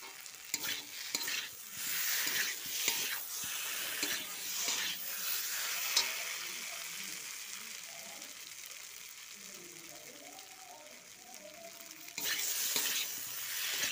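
Potatoes with cumin powder and a little spice frying in a wok, giving a bright, continuous close sizzle with brief stirring scrapes early on that settle into a calmer hiss before flaring louder near the end.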